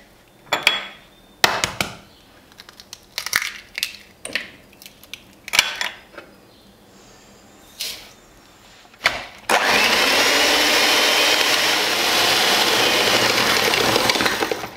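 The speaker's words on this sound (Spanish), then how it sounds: "En primer lugar, batiremos los huevos con el azúcar" Eggs and sugar being beaten for a coconut sponge cake: scattered clinks and taps of utensils at first, then from about ten seconds an electric mixer starts and runs loud and steady to the end.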